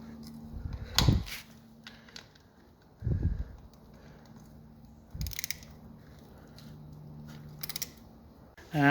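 Wrench tightening a 14 mm bolt on a Kawasaki Vulcan Classic LT 2000 cc motorcycle during an oil change: a few separate close metallic clicks and ratcheting bursts with quiet pauses between them.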